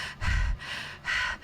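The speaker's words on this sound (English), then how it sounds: "Can you hear me breathing into the mic?" Breath into a microphone: two or three close, loud breathy puffs with rushing air between short pauses, no speech.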